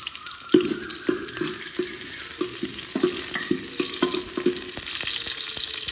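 Onions frying in oil in a pot for village-style mutton sambar, a steady hiss of sizzling with sharp, regular scraping and tapping strokes of a ladle against the pot, close up and without talking.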